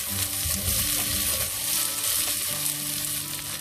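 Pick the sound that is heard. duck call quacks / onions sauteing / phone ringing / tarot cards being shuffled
onions sauteing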